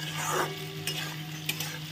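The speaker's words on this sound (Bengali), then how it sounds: "মশলার সাথে আলুগুলোকে ভেজে নেব" Potatoes stirred and fried in spice paste in a pan for a Bengali katla fish curry with gondhoraj lemon, giving a steady close sizzle with a couple of sharp scrapes of the spoon.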